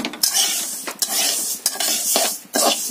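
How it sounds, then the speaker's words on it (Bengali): Lentils frying in a pan while a spoon stirs them, giving repeated metallic scrapes and clatters over a light sizzle, close and loud. "ডালটা ভালো করে ভেজে নিয়ে তারপরে খিচুড়িটা বসাবো"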